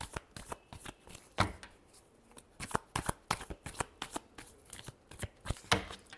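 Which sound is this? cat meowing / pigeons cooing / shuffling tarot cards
shuffling tarot cards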